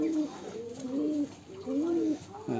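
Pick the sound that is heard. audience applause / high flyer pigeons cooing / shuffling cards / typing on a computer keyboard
high flyer pigeons cooing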